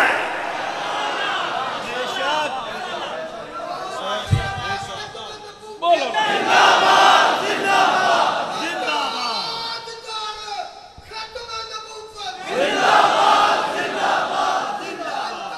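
Crowd at a Sufi shrine anniversary gathering (urs) loudly chanting religious slogans in call-and-response bursts, with a leader's voice calling out between rounds of massed shouting.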